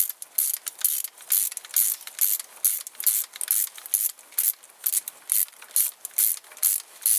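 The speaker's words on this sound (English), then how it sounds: "it's just easier to do it with the ratchet" Rapid ratchet wrench clicking in steady repeated bursts while a starter bolt is loosened on a Honda Civic, close and crisp, with no talking.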